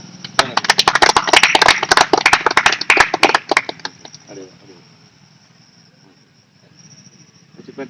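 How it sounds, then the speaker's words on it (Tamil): At a school tree-planting ceremony outdoors, a small group claps loudly and crisply for about four seconds, then the clapping stops and quiet talk and insect chirping remain. "கைத்தட்டு"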